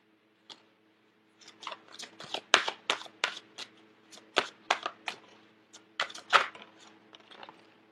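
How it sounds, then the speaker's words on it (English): Advice cards being shuffled by hand, a series of crisp riffling and snapping bursts at irregular intervals, close and fairly quiet against a faint steady hum. "So I'm going to get 2 more advice cards."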